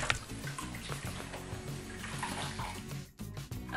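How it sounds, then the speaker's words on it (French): Water rinsing a small dog in a basin set in a shower, a continuous splashing pour with gurgles and irregular shifts, ending in a brief break before the flow resumes. "Donc après on va rincer."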